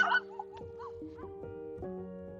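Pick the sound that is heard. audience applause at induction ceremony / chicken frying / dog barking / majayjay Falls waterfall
dog barking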